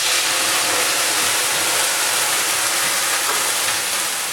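Tofu tipped into hot oil in a pan, sizzling and frying with a loud, steady broadband hiss that fills the whole clip without a break.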